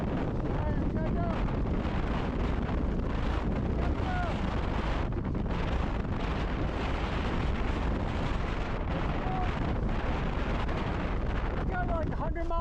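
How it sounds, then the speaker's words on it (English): Strong, roaring wind on an exposed ridge near Mount Rogers buffets the microphone, a loud, unbroken blustery rumble that lasts throughout. "Got like 100-mile wind. Holy cow."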